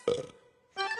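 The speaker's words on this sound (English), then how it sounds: "but watch out when he burps" A cartoon burp: a short, loud, tonal belch that stops abruptly, followed after a brief pause by a bright, buzzy comic sound.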